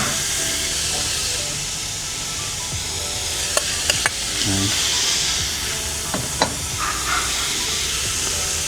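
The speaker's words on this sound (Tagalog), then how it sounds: "So, salang na natin tong baboy. Prito natin siya guys." Pork sizzles and crackles steadily in oil in a hot pan, with scattered pops, spatters and a few utensil clicks; a voice briefly speaks.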